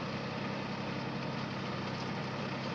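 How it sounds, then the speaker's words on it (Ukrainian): Used Mitsubishi MT161 tractor running with a rotary tiller attached, a steady, even engine rumble with constant mechanical vibration and no pauses. "Працює трактор відмінно. Грунтофреза теж не шумить, все працює справно."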